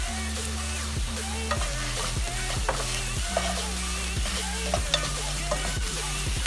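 Pieces of ribeye roast browning in a hot pan, with steady close sizzling and frying under repeated scraping and stirring strokes, while a low steady hum runs underneath throughout.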